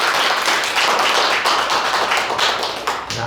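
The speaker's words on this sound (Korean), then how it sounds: "박수 한번 치세요." An audience at a lecture in Daejeon claps together, producing a loud, dense and continuous patter of hands that lasts the whole few seconds, close by.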